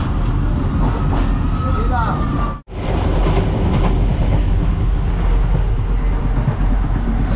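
A passenger train in Pakistan rumbles steadily on its rails with a constant low roar, briefly cutting out for a moment before the running noise resumes.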